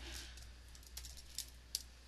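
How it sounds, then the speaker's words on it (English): Computer keyboard typing, a quiet run of soft key clicks with a couple of sharper taps near the end, heard alone with no voices. "I can't really think while typing"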